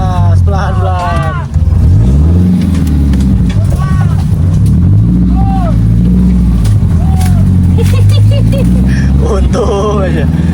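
Car engine droning steadily while driving an off-road track at Jatiluhur, loud and close from inside the vehicle, with several people talking over the motor throughout.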